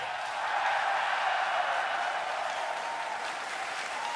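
A large esports arena crowd at The International 2017 Dota 2 tournament applauds and cheers after a cosplay contest winner is announced, a dense, sustained roar of clapping that holds steady throughout.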